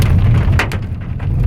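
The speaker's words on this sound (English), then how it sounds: "there's lots of hail coming down" Hail pelts a car during a storm in the Andes near Mendoza, a dense steady patter of ice on the body with a couple of sharper cracks standing out near the middle.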